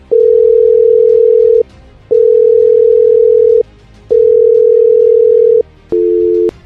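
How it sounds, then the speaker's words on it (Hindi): Phone call ringback tone repeating as an unanswered call goes unpicked, loud steady electronic beeps about one and a half seconds long separated by short gaps, four rings in a row with no talking. "कॉल जा रहा है बट फोन पिक नहीं कर रहा है"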